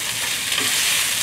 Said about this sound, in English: Stir fry. Toss it around.